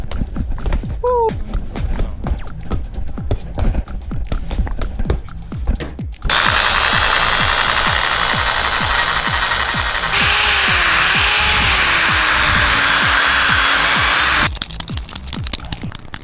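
A power drill bores out a part on a Nissan 350z, whining loud and continuous for about eight seconds after clattering tool handling and taps, with pitch dipping as the bit works through the metal.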